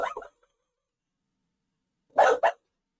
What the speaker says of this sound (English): So she barks when she hears other people talking.